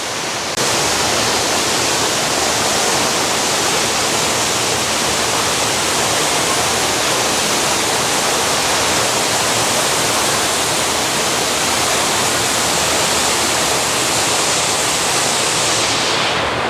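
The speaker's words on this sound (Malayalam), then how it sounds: "അങ്ങനെ നമ്മൾ ഒരു വെള്ളച്ചാട്ടം കണ്ടു." Waterfall inside St. Beatus Caves in Switzerland, a loud, continuous broadband rush of falling water that holds steady throughout, close by and with no voices.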